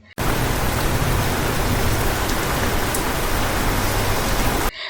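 Heavy rain falling outside, a dense, even roar of rain on surfaces that starts abruptly and holds steady for a few seconds before cutting off.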